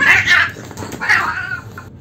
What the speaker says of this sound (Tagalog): yung narrate natin sa dalawang pusa na nag-aaway